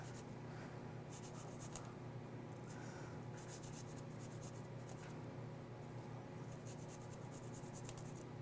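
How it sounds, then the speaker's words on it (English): A handheld zester grates fresh garlic into a bowl in quiet, repeated bursts of fine scratchy rasping, close but faint, with short pauses between strokes and no speech. "I like to use the zester. It just keeps it really fine and helps release some of those oils of the garlic."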